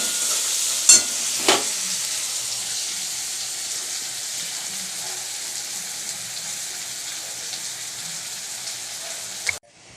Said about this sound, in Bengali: এটা ভাজা হোক তখন, মশলাটা বেটে নিয়ে আগে।